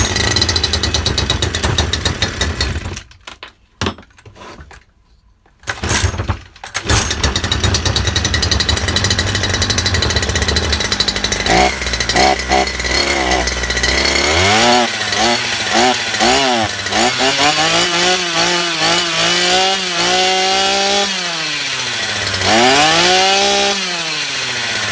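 A Stihl FS240 strimmer engine runs loud and close after being pull-started, buzzing steadily, briefly dropping out, then revving up and down repeatedly in rising and falling whines.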